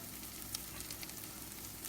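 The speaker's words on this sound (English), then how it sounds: "These are sizzling." Low carb crab cakes sizzle in a frying pan with a soft, steady crackle and a few faint pops, quiet and close with no talk.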